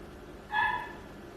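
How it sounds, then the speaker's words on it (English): A neighbour's dog gives a single short bark, somewhat distant and moderately loud, over a quiet indoor background with no talking. "Sorry about the dog barking."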